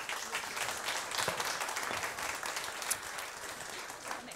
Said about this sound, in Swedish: Och jag tycker ni ska ge honom en stor applåd.